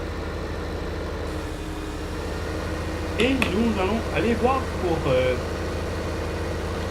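A small truck's engine idles in Farming Simulator with a steady, low mechanical hum, while someone speaks French over it partway through.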